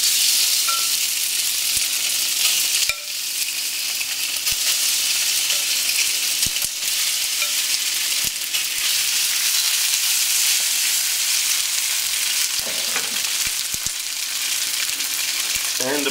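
Marinated steak sizzles and fries in a hot pan for beef and broccoli, a constant dense crackling hiss with occasional sharper pops and faint stirring clatter.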